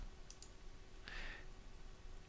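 A single soft computer mouse click during Delphi IDE work, brief and quiet over faint room hum, with a couple of tiny ticks before it.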